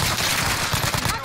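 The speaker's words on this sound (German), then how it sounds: "ich krieg Schüsse von der Brücke" Gunfire in Call of Duty: Warzone, shots coming from a bridge, a quick loud burst of rapid cracks filling a moment of gameplay.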